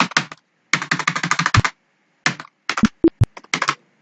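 Keys clatter on a computer keyboard in quick bursts of typing, separated by pauses, ending with several distinct, louder single key presses like Enter being struck, close and clear with no talking.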